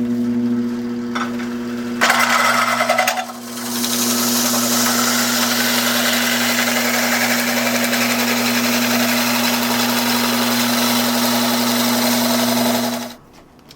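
A lathe spins a workpiece held on a waste chuck, giving a loud, steady whirring hum with a strong low drone. The hum runs unbroken for about ten seconds and then cuts off abruptly.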